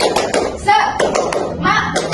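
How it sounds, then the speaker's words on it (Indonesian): Children in a primary school classroom doing the rhythmic tepuk semangat spirit clap: a string of sharp, quick hand claps in a steady pattern, mixed with young voices chanting along. "Tepuk semangat."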